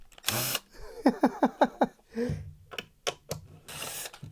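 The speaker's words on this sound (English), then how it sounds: "Like I broke the mount in there, unscrewing it." Screws being backed out of a cheap plastic speaker casing during a teardown: a close, rapid run of five ratchet-like clicks, with a few sharper plastic knocks and rustles before and after.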